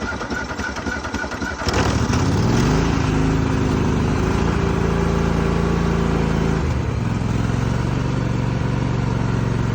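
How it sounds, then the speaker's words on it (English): A 2-cylinder Kohler engine on a Cub Cadet riding mower, left unused for three days, cranks briefly, then catches and roars into a loud, steady, close-up run. No talking. "This is how my Cub Cadet starts after 3 days of not running."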